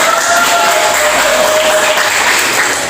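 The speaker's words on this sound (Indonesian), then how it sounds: "beri tepuk tangan untuk kita" Loud, sustained applause from a crowd, dense clapping filling the whole moment without letting up.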